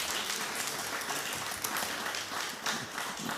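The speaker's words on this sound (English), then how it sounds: "Let's give our panelists a round of applause," An audience applauds panelists at a faith and democracy event, with steady, dense clapping that fills the room throughout without pause.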